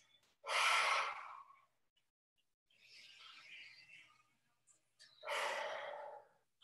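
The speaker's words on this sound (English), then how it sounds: "Maybe a little lion's breath here too, just relax." Yoga lion's breath, forceful exhales out through the open mouth, two strong breathy gusts close by with a softer, quieter exhale between them.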